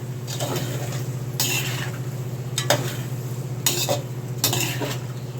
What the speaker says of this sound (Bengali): আলুর সাথে ভালো করে বাদামটা আর সব মশলাকে বন্ধুরা কষিয়ে নিতে হবে